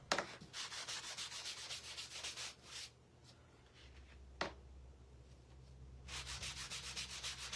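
Wax being rubbed by hand onto freshly painted wood furniture: steady back-and-forth scrubbing strokes in rhythmic bursts, close and fairly quiet, with a short pause in the middle before the rubbing resumes.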